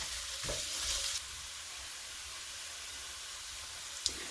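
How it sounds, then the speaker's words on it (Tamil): Carrots sizzling and frying in a pan, a steady soft hiss with a brief stir near the start and a small clink near the end, no talking. "இப்போ நான் கேரட்டையும் போட்டு அதிலே கொஞ்சம் ஃப்ரை பண்ணி எடுத்துக்கொள்ள போகிறேன்"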